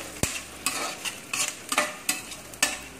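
Small pierced onions fry in oil with a continuous sizzle, punctuated every half second or so by sharp scraping strokes of a spoon against the pan.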